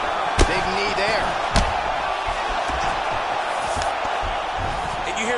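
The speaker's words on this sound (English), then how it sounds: "you hear the crowd react every time they come together because they understand the power that these guys are striking with" Video game arena crowd in a UFC bout featuring Cain Velasquez keeps up a steady roar and murmur, punctuated by two sharp, loud strike impacts early on.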